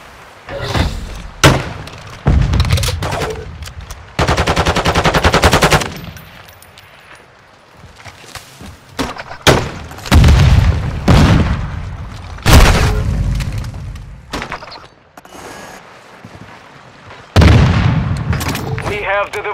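Loud booming explosions and bursts of gunfire from a combat video game with bomb-detonation objectives, arriving in heavy repeated blasts with short quieter gaps between them.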